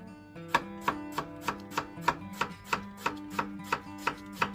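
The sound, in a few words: chopping onion finely with a sharp knife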